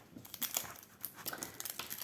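A plastic-wrapped diamond painting canvas is flattened by hand, giving close, irregular crinkling and crackling of the plastic wrap in quick bursts, with no talking.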